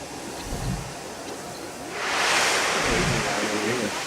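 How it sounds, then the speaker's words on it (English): A giant waterfall in the Planet Coaster theme park game gives a steady broadband rush that swells louder midway and holds, with a voice faintly under it. "It's gonna be really loud in here. There's like a giant waterfall,"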